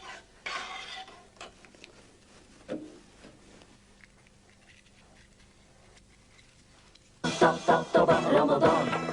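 A spoon stirring food in a pan, heard as scattered soft scrapes and clinks, then a loud burst of vigorous metallic stirring and clattering toward the end. The clip comes from a 1999 Syrian Ramadan cooking segment.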